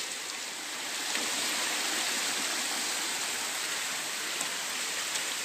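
Constant rushing of a flowing hill stream used as a village drinking-water source, a dense, even wash of water noise close by, with no voices.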